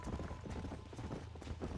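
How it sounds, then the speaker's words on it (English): Horse hooves clip-clop at a steady trotting rhythm in the Red Dead Redemption video game, a fairly faint, continuous series of hoofbeats with no talk. "These are fine horses."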